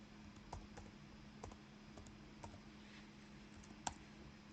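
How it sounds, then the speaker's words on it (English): Typing a password on a computer keyboard, with a few quiet, irregular key clicks spread across the clip against a low steady background hum. "So what I have to do is I'm going to type my password."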